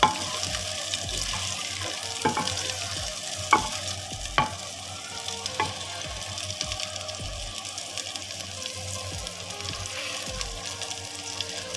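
Peas being stirred in a pot of frying masala for matar gosht: a soft continuous sizzle with wet, sloshing stirs and occasional light clinks of the spoon against the pot.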